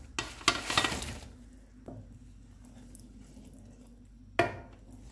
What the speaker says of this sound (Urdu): پکوڑے مکس کر کے چولہا بند کر دیں گے اور تڑکا تیار کر لیں گے.